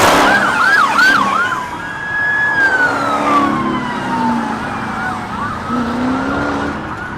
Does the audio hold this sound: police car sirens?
yes